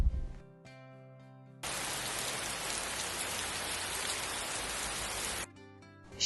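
Steady rain pours down in a dense, even hiss that starts abruptly and stops just as suddenly after about four seconds.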